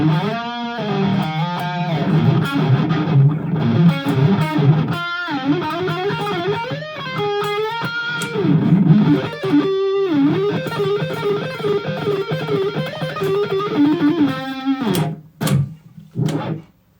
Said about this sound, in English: Fucking around with the HX Stomp.